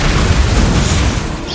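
An Expelliarmus spell is cast in the Hogwarts Legacy video game, producing a loud, dense magical burst with a booming low rumble and airy hiss that fades slightly near the end.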